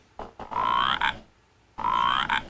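Frog croaking just outside, near an air conditioner: two loud, drawn-out rising croaks with a pause between them, each led in by a short grunt, close to the mic and with no voices.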